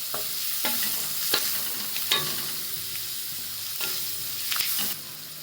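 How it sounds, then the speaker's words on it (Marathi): Onion sautés in hot oil for a village-style zunka, with a steady frying sizzle broken by several sharp scrapes and clinks as a spoon stirs the pan at irregular intervals, close and with no talking. "दहा रुपयाचा कांदा तेलामध्ये चांगला परतून घ्यायचा"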